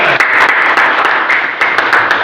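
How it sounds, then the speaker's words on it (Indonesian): A classroom audience claps steadily, a dense burst of applause with sharp individual claps scattered throughout, fairly loud and close. "Tepuk tangan untuk Mas Gilang."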